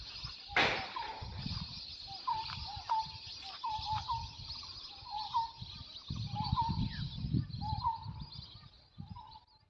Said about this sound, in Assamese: চৰাইৰ মাতবোৰ শুনিছেনে?